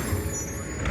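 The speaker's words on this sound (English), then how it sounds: "McNeil's ZR garbage truck." An Escondido Disposal McNeil ZR garbage truck approaching on a drizzly evening, its diesel engine a steady low rumble with faint high whine, growing slightly louder toward the end.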